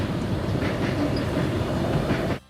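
A Soo Line train rolls by close at hand, a loud continuous rumble of wheels with rhythmic clickety-clack over the rail joints, cutting off abruptly near the end.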